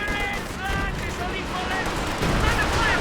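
Gunfire and shelling in Company of Heroes 2 during a 4v4 battle with a Brumbar assault gun, dense bursts of shots and blasts rolling under a commentator talking over the action.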